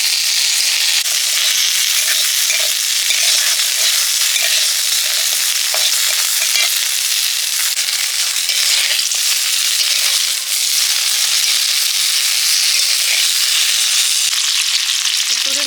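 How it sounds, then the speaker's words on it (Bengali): Potatoes fry in a pan for khichuri, giving a steady, dense sizzle with occasional crackles and pops that continue loudly and evenly throughout, with no voices. "আলুগুলো ভেজে নিচ্ছি"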